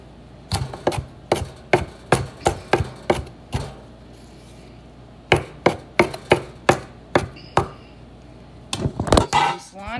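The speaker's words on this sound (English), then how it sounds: "Chop our radishes." A knife chops cilantro and radishes on a cutting board in sharp, rapid bursts of crisp strokes, with a short pause between two runs and a rustle of handling at the end.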